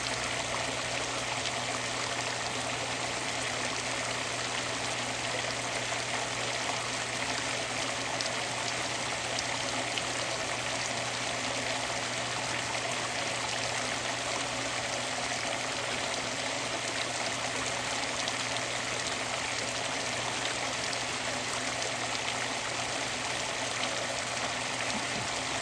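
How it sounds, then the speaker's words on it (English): Water pours steadily out the back of a mini highbanker sluice, a continuous even rush and trickle with a faint mechanical hum beneath and no pauses. "I need a bucket to be able to collect that water that's coming out the backside"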